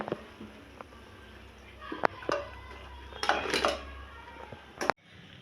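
Crisp fried rava vadas made from upma semolina are set onto a plate, with a few sharp clinks and scrapes of utensil on plate against a quiet kitchen background.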